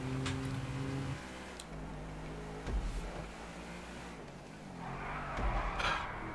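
A car in GTA V drifts with skidding tire squeal over a steady engine drone, the screech rising and falling across the slide in a video game setting.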